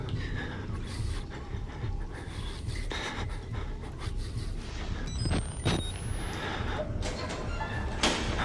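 Heavy, rapid panting of a character in the horror video game Outlast, steady ragged breaths over a dense game soundscape with occasional sharp clanks and a rising whine.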